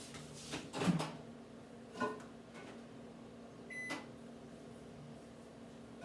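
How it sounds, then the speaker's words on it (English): A kitchen microwave oven softening six sticks of butter: a door clunks open and shut, a few buttons are pressed, a single beep sounds, then a low running hum continues quietly. "So I'm gonna put these in the microwave, soften these up, because they need to be softened."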